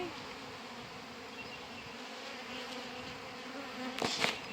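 A honey bee crawls on a camera beside a hive, its close, steady buzzing running throughout and swelling louder near the end as it moves right against the microphone.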